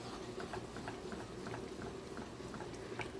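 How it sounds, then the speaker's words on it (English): Peanut butter (groundnut) soup cooking in a pot, a steady soft bubbling with faint patter and light stirring clicks, fairly quiet and continuous with no voices. "So you want to make sure that you stir it frequently to prevent it from burning underneath."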